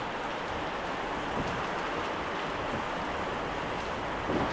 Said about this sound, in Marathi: मुसळधार पाऊस सुरूच आहे